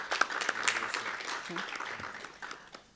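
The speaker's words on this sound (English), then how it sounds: "Please give them a warm round of applause once again." A brief, fairly faint round of applause at a 2019 conference of African finance ministers in Marrakech, scattered clapping mixed with voices talking nearby.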